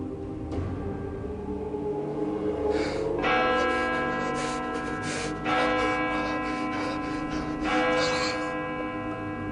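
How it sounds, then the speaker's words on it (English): Church-style bells chime in a slow series of resonant strikes, each ringing out with long sustained tones that overlap and decay, clear and moderately loud against a low background. "In a moment, bells will chime."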